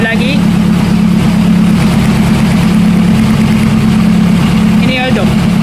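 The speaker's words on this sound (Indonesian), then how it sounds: "Tapi mesin masih stable." A car engine with a cylinder deactivation system idles with a loud, steady low rumble throughout, running stable, while a person talks over it.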